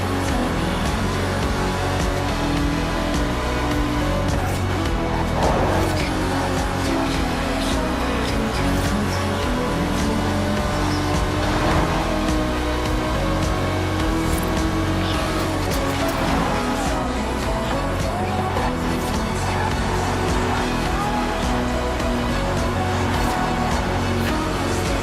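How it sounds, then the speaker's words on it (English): Aston Martin DB5 Vantage, a 1960s British grand tourer with side-draft carburetors, driven in Forza Horizon 4; a steady, loud engine drone continues throughout with revving swells and no talking. "The Aston Martin DB5 Vantage was the quintessential Grand Tourer of the 1960s, combining British engineering and Italian design."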